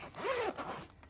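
A zipper on the cover of a GoalZero Atlas 80 portable fridge is pulled once, a quick close rasping zip lasting about half a second.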